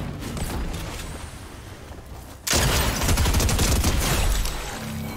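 Gunfire in the video game Fortnite during a live event, a dense crackling rattle that bursts in abruptly halfway through over a rumbling background and continues loudly to the end.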